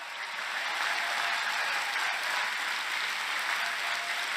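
An audience at a CPAC political speech breaks into sustained applause: a dense, even wash of clapping hands that stays loud and steady throughout with no voices standing out.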